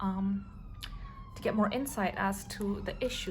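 A wailing siren rises and falls in the distance beneath someone talking close by.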